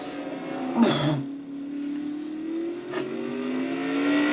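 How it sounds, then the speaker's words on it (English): Stock car engines from a NASCAR Nationwide Series race at Mid-Ohio Sports Car Course hold a steady, sustained drone, with a car swelling past near the start and a second brief pass later, no talk over it. "Kyle Matthews in car number 70, the Johanna Long car, leading the field here at the Mid-Ohio Sports Car Course"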